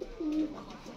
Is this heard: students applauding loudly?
no